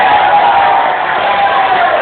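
Supporters of candidate number 3 at a regional election debate for district head in Rokan Hulu clap and cheer, producing a dense, steady crowd roar that holds loud and unbroken throughout.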